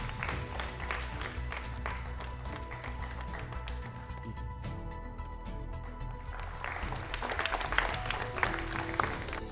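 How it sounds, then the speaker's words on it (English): Audience applause for the winning team at a quiz award ceremony in Kolkata, continuous clapping in a hall with a low hum of crowd noise beneath, growing slightly louder toward the end. "Please let the applause continue."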